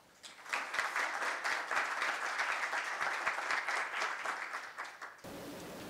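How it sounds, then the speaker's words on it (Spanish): Audience applauding to welcome a speaker at a conference on justice and truth held by the Banco de la República, a dense steady roar of many hands that swells quickly, holds for about five seconds, then cuts off abruptly. "recibamos con un aplauso."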